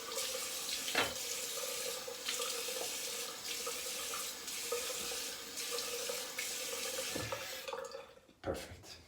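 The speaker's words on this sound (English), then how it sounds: "Warm water to get the soap off, and then cold water" A bathroom tap runs steadily into a sink while shaving soap is rinsed off, a constant close hiss of flowing water with small splashes and a brief interruption near the end.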